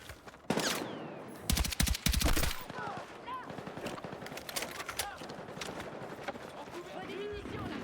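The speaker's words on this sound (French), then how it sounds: "On se fait mitrailler dans le souk." Close machine-gun bursts rattle through a souk during a night raid in a video game, loud for a second or two before fading into busy battle noise, footsteps and clatter.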